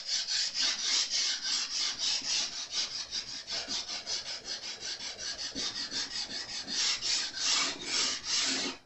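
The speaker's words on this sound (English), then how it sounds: "You could do this a lot quicker with a more aggressive sandpaper." Sandpaper rubs back and forth across the wooden fretboard of a Jazz Bass neck in steady, rhythmic strokes, a close, even rasping repeated many times without pause.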